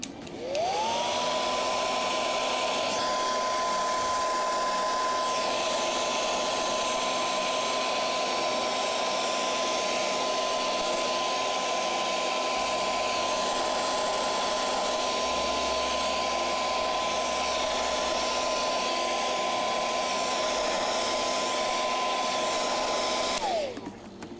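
A hair dryer blows on puppet material during a shop build, switching on with a rising whine, then running as a steady, close drone for over twenty seconds before spinning down, with no talking.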